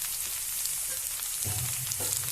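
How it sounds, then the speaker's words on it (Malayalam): Chopped drumstick leaves stir-fry without water in a hot pan for a Kerala thoran, giving a steady close sizzle and hiss with a brief scrape of stirring partway through. "അരിഞ്ഞു വച്ചിരിക്കുന്ന മുരിങ്ങയില കൊട്ടി ഇളക്കണം. വെള്ളമില്ലാതെ നമ്മൾ വേവിച്ചെടുക്കണം."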